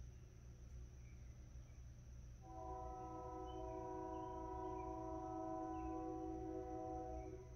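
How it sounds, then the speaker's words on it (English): Over a low rumble, a distant train horn begins partway through and holds a steady multi-tone chord until the end, moderately faint. "Listen, you hear that train?"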